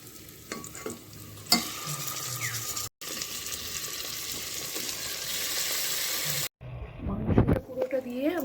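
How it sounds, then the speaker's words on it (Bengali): Meat stirred and frying in an oiled pan makes bursts of sizzling and scraping spatula strokes, loud and close, broken by brief pauses and a few sharp clatters, with voices briefly in the background. "মাংসটা পুরোটা দিয়ে আমি একটু নাড়াচাড়া করে দিয়েছি।"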